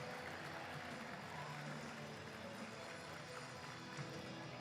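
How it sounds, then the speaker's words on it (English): A steady wash of crowd applause fills the hall at the HMUN 2026 Model UN opening ceremony. It stays dense and even throughout and sounds fairly distant and soft. "Clap it up for Rahul and his merch booth."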